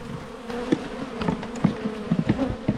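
Honeybees buzzing at a Langstroth hive during sugar feeding, a steady close swarm drone with repeated louder swells as individual bees pass near, no voices.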